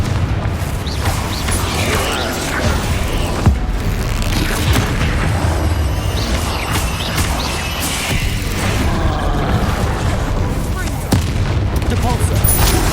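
Repeated fiery blasts from the Confringo spell in the Hogwarts Legacy video game ring out loud and dense over a constant roar of combat, with sharp bursts at intervals and character voices mixed in.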